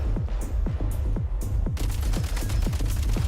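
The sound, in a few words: gunfire in a video game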